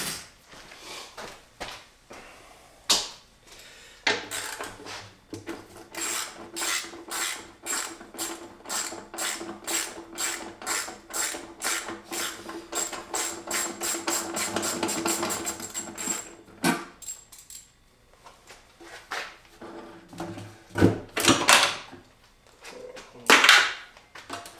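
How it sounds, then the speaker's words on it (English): Ratchet wrench removing a bolt from a motorcycle frame during a bobber build, with long runs of fast rapid clicking and metallic mechanical clatter, close and moderately loud, with brief pauses between runs. "let me go take the other bolt off."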